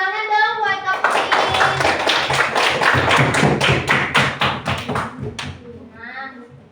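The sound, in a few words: applause for Kak Putri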